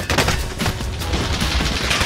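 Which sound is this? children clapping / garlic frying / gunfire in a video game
gunfire in a video game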